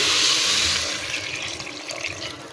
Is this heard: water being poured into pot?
yes